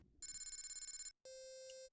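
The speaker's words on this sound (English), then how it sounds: "The phone's ringing." A phone rings in the Phoenix Wright: Ace Attorney - Spirit of Justice video game, a trilling electronic ring followed after a short gap by a second steady tone, clear and alone.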